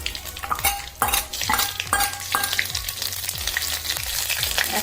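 Whole spices (cardamom, cinnamon, panch phoron, cloves, sugar, chilli, bay leaf) sizzle in hot oil for prawn malai curry, a steady crackling fry broken by several sharp scrapes and clinks of a spoon against the pan, with no talking.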